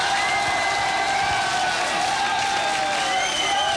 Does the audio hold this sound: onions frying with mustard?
no